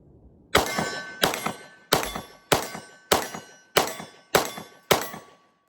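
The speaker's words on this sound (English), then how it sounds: "ready to warm up some steel targets" Bullets from a PSA Dagger pistol strike steel targets in eight evenly spaced metallic clangs, each ringing briefly before the next. They are sharp and fairly loud, with no talking.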